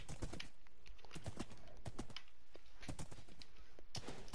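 A small horse's hooves clip-clopping in Minecraft, a quick run of light, dry taps in an uneven rhythm, close and clear with no voices over them.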